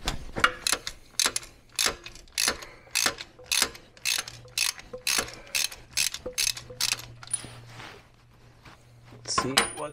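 Ratchet wrench removing bolts on a BMC 1800 Landcrab engine, rapid repeated clicking bursts in a steady rhythm, close and fairly loud, with someone talking at times.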